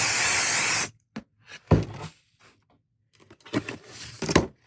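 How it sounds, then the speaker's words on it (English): 505 temporary spray adhesive is sprayed from a can onto heavyweight tearaway embroidery stabilizer, a loud close hiss lasting nearly a second, followed by quieter handling taps and rustles. "now I'm going to spray some 505 on here"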